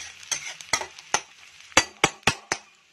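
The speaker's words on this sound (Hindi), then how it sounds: "फिर टमाटर और थोड़ा मसाले और फिर ये चने उबले हुए हैं जो ये डाल देंगे" Boiled chickpeas fry with tomato, masala and ginger-garlic paste in a pan, a soft sizzle broken by about eight sharp clinks and scrapes of a spoon stirring, close and clear with no talk.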